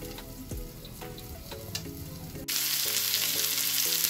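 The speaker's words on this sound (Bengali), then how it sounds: "আমার আলু পটলটা মোটামুটি খুব সুন্দরভাবে ভাজা হয়ে গিয়েছে" Potato and pointed gourd pieces fry in a pan, a steady close sizzle that jumps noticeably louder halfway through, with faint stirring clinks over it and no voices.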